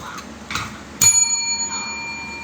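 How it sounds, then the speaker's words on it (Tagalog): A TikTok satellite game plays a single bright bell ding that rings out and slowly decays, after a few soft, faint knocks. "asa na ba yung bell ko? Nawawala yung bell ko."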